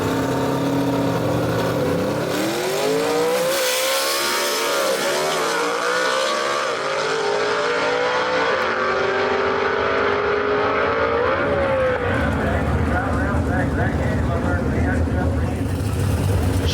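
Gasser drag race cars, including a homegrown Chevrolet, roar off the line and scream down the strip at a Southeast Gassers event in Knoxville, the loud engine howl rising in pitch and sustained throughout, with an announcer talking over it.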